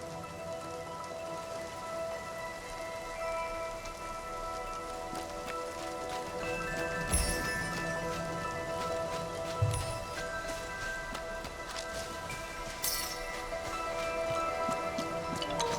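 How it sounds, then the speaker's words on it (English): Raindrops patter steadily in a calm Infinity Nikki game scene, a soft continuous wash of plips and plops with a few louder isolated drops standing out. "The plips and plops of raindrops are so nice to fall asleep to."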